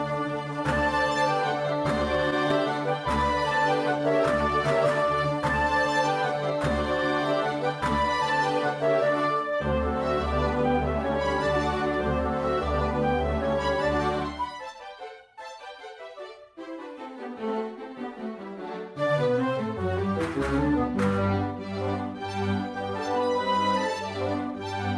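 A Tarantella from Satanilla plays as full, dense dance music, loud and steady with driving rhythm. Midway the bass drops away for a thinner, lighter passage, then the full sound returns. No voices are heard.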